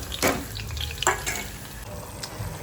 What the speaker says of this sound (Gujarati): તો ચલો પહેલાં આપણે ફ્રાય કરી નાખીએ.